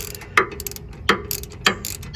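A hand ratchet on an Escalade's disc brake caliper bolt clicks in three sharp, close bursts, each a quick run of pawl ticks separated by short pauses.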